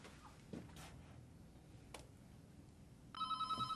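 Telephone ringing in a drama scene, entering as a bright, loud electronic trill near the end after a stretch of quiet room noise.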